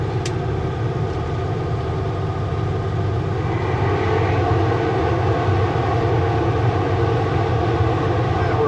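A heavily loaded truck's engine drones steadily after a downshift, with loud, continuous low rumbling and a constant drivetrain hum.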